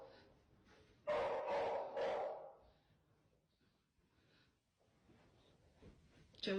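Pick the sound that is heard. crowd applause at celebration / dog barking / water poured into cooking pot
dog barking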